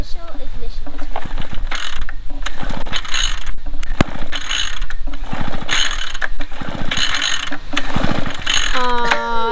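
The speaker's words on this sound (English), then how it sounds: "Pull starter cord 3 to 5 times until initial ignition is heard." Starter cord on a Wild Badger backpack leaf blower is yanked again and again, each pull a loud ratcheting rasp, about one per second, close by. A brief rising whine follows at the end.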